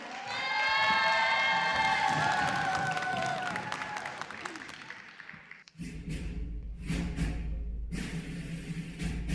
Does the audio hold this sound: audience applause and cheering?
yes